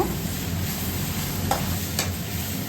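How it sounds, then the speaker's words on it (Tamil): Green chillies and onions sauté for brinjal chutney in a steady, close hiss of frying with a couple of light stirring scrapes. No one speaks. "இப்போ இது எல்லாமே நல்லா வதக்கிக்கிடலாம்"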